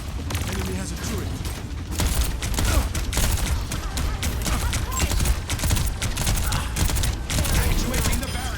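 An enemy turret fires in a team-based shooter game, a dense, continuous stream of rapid gunfire rattling over busy battle noise for the whole stretch.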